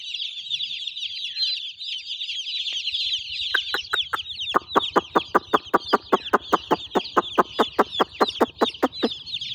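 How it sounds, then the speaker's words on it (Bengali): A flock of chickens clucks and chirps nearby, settling into a steady run of rapid, rhythmic clucks that grows louder toward the end. "সবগুলো এখানে চলে এসেছে মুরগিগুলা"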